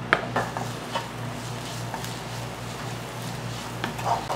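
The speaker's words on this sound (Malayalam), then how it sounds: "ഇത് നന്നായിട്ട് വഴറ്റിയെടുക്കാം. ഈ മസാലയുടെ പച്ചമുളക് നന്നായിട്ട് മാറണം." Egg curry masala with green chillies being sautéed in a pan, steady low sizzle under repeated scraping and clinks of a spoon against the pan, close and moderately quiet, no talk.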